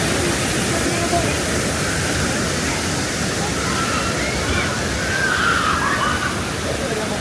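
Heavy rushing, sloshing water at a crowded Disney California Adventure theme park attraction, a steady broadband roar that fills the whole clip with faint crowd murmur beneath.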